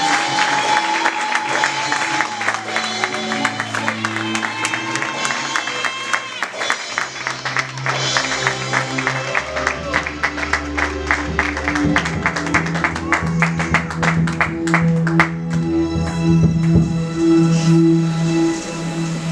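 A church congregation applauds and cheers in acclaim of Jesus, sustained clapping and crowd noise mixed with music and voices, loud and continuous for the whole stretch.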